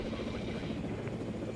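A helicopter drones steadily in Jurassic World Evolution, its low rotor throb continuous and fairly close throughout, with no clear speech over it.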